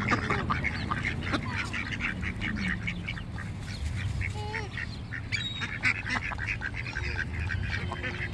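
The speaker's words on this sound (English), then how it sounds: "Hey, funny looking duck." A group of ducks quacks and honks repeatedly at a pond, with overlapping calls near and farther off over a busy outdoor background and a faint voice now and then.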